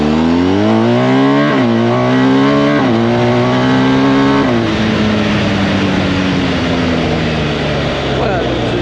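A BMW R 1250 GS motorcycle accelerates hard through the gears on its quickshifter, loud engine revs climbing in pitch with quick drops at each of several rapid upshifts, then a sustained high-speed drone with wind noise.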